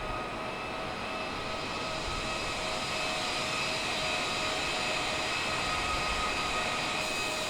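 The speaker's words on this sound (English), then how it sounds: "And this is a Dreamliner." Boeing 787 Dreamliner jet engines in Microsoft Flight Simulator make a constant, even roar with a faint high whine. The sound holds steady and unbroken the whole time, with no talking.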